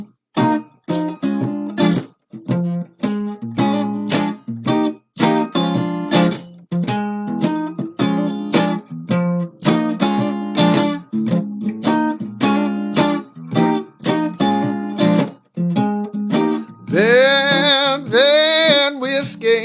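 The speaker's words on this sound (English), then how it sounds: "it makes me feel good when I hear a guitar sound like this" Blues electric guitar picked in short, punchy phrases with clear sustained notes, near and loud, ending in a bent, wavering lick; no voice comes in.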